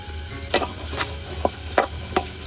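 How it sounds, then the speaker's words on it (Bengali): Potatoes fry with salt in a pan while being stirred, a soft continuous sizzle broken by several sharp scraping and clinking strokes of a spatula, close and alone without talk. "লবণ দিয়ে এদিকে আলু ভাজাটা হোক"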